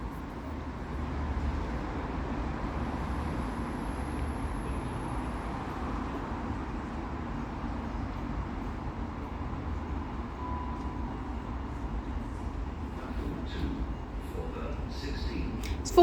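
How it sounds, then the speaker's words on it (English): A South Western Railway Class 450 electric multiple unit pulling into Eastleigh station produces a steady low rumble and rolling hum, moderately close and continuous, with a faint high whine and a voice talking over it. "pulling in now. We have a South Western Railway Class 450"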